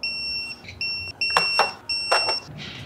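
A phone ringtone imitating a Velociraptor roar from Jurassic Park sounds in a workshop during air-cooled Porsche 993 engine assembly: steady electronic tones broken by two loud, harsh roaring bursts, with no talk.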